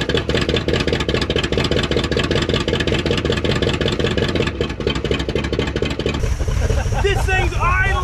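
An old Dodge Power Wagon truck engine, running after sitting abandoned for 41 years, idles with a steady, rumbling chug, loud and close, and a voice breaks in near the end.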